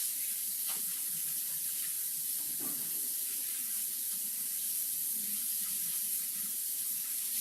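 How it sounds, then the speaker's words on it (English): Water flows steadily from a kitchen tap as fingers are rinsed under it, a soft, continuous hiss with faint splashing. "I'm going to rinse my fingers off."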